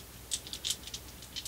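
Plastic dice from the Warhammer Underworlds Nightvault tabletop game rattle and click together in a quick, faint series of light taps, close up and with no voices.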